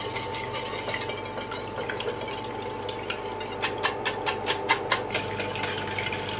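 A whisk or spoon stirs lemon juice, sugar and eggs in a bowl over a bain-marie, making light, rhythmic clinks and scrapes that quicken toward the end over a soft steady hum.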